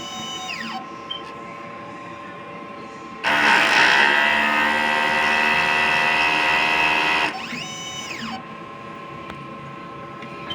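An inkjet printer runs a print head cleaning cycle: a loud whirring, buzzing motor spell lasting about four seconds, framed by quieter sweeping mechanical tones and faint clicks before and after.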